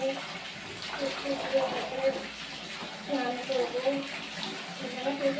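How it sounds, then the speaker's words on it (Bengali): Clothes being washed by hand, with steady sloshing and splashing water throughout and a voice talking faintly underneath. "তো চলো তো জামা কাপড়গুলো কেচে নেবো।"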